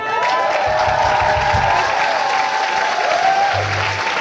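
Audience clapping at a live rock concert in Paris, a dense, loud, steady wash of applause with some crowd noise throughout.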